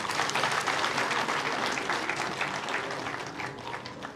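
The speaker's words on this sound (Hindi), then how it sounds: "तालियों के साथ स्वागत।" A room full of people at a book launch applauds steadily, dense clapping that slowly tapers off toward the end.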